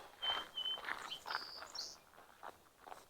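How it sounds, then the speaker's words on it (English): A bird chirps at an old mill site in Castlegar, British Columbia, giving a quick run of bright, sharp tweets and short trills that fade to sparse notes against a quiet background. "It's a pretty bird."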